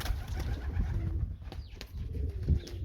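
Soft, low cooing from white homing pigeons close by at their loft, repeated murmurs layered over a busy background with faint flutters.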